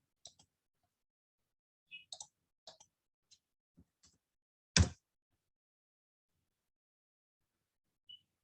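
Computer mouse click in a quiet room, one sharp near click standing out among a few fainter ticks and taps spread over several seconds.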